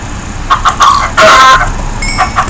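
Chicken clucks and squawks from the Minecraft video game, several short sharp bursts in a row plus one longer loud squawk, heard close over a quiet game backdrop.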